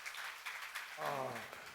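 A church congregation at a psalms seminar claps hands in a dense, steady patter, and a voice rises over the applause near the end.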